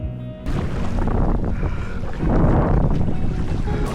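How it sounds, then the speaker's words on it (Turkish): Strong wind roars and buffets the microphone over open ocean water with heavy waves, continuous rushing noise and surges of gusting, no voices. "rüzgarın şiddetini arttırmasıyla kanoyu kullanmak iyice zorlaşmıştı"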